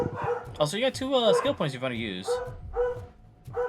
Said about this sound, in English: we apologize for the barking